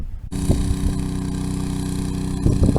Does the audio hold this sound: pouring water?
no